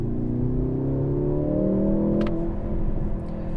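A 2024 Mercedes-AMG GLC 43 Coupe in sport mode revs its engine in a steady, rising drone that stays loud and close for the whole stretch, with no talk over it.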